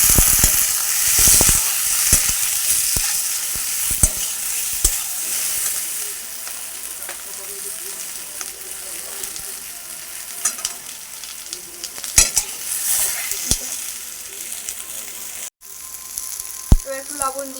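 Boiled potatoes fry and sizzle in a pan while a metal spatula stirs and chops them, giving a steady hiss with repeated sharp scraping clicks and taps close by.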